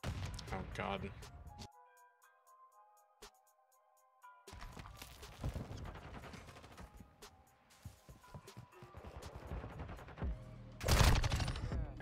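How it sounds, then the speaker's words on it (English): Gunfire in Call of Duty: Modern Warfare 2 ranked play, scattered rapid bursts and sharp shots with quieter gaps between, a loud cluster near the end, over game effects and occasional talk. "Shooting."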